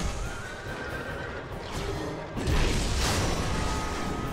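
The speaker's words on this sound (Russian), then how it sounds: "Так, опять демон-лошадь," A demon horse in the action game Berserk and the Band of the Hawk neighs loudly over constant battle noise, with a heavier crash of combat swelling in midway.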